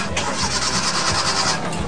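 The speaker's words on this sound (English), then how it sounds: "Uh-oh, the engine's not starting." A boat engine cranks repeatedly without catching, the starter whirring in a steady rhythm, loud and close.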